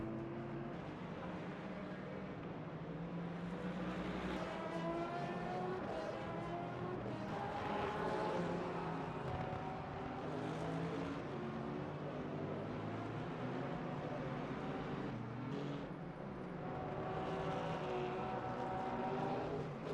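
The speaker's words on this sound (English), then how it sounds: "Very quiet car I'm hearing." A steady, droning race car engine with shifting pitch runs continuously in a racing video game at Portimão, its tone rising and falling as the car speeds along.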